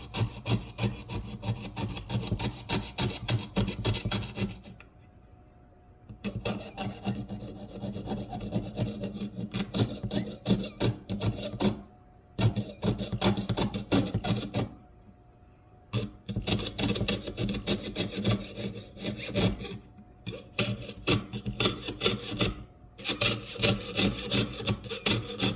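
A jeweler's saw cuts intricate details into metal jewelry pieces, giving steady rasping back-and-forth strokes in long runs broken by short pauses, close and fairly loud with no talking.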